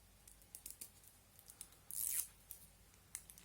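Brow mascara packaging being torn open by hand, a series of close, quiet rips and crinkles with one longer tearing stretch in the middle.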